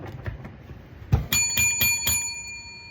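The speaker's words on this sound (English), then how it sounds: "That's a call me bell." A call bell on a table is struck, producing several bright metallic rings with long sustained tones that overlap and linger, close and fairly loud after a soft thump.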